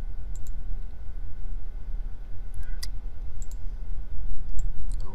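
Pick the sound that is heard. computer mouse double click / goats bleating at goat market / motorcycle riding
computer mouse double click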